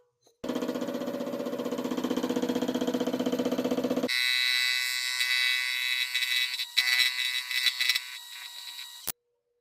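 A $400 lathe turns down a welded shaft for a small engine part; a steady motor drone runs for several seconds, then shifts to a higher, thinner whine with a few rough bumps before stopping abruptly.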